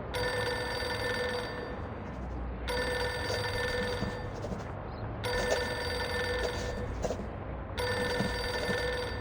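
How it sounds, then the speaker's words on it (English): A telephone in the video game Reverse: 1999 rings in long, loud electronic bursts, repeating three times with short pauses between, over a steady background murmur. "Pick up the phone already."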